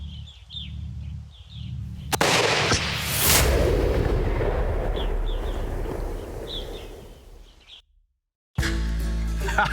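A single sharp rifle report cracks out during an elk hunt in open country, followed by a long rolling echo that fades; faint birdsong sits before the shot, and the sound cuts briefly near the end before loud ambient noise resumes.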